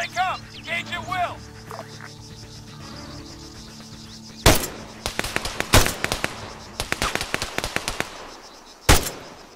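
Gunfire in the video game Arma 3: after someone speaks over radio-style chatter, sharp loud rifle cracks and short bursts break out, spaced shots and clusters echoing across an open field.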